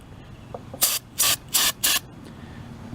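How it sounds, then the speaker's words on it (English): Four short, sharp bursts of carburetor cleaner spray hiss in quick succession into a Husqvarna MD51 engine, close to the microphone, against quiet background noise. "I'm going to spray some carburetor cleaner in here."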